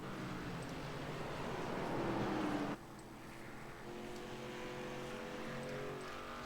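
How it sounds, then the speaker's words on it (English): K&N Series race cars at Martinsville, a distant, steady roar of engines that swells and then cuts sharply down to a lower, continuous hum as the cars pass around the track. "Those are some amazing engine noises for these K&N cars."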